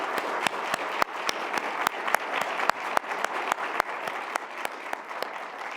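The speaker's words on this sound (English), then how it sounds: "I really want us to give a huge round of applause for the co-chairs" Sustained audience applause at an Alaska Native Studies Conference keynote, a dense steady wash of clapping with a few sharper claps standing out, fairly distant and even throughout with no talking over it.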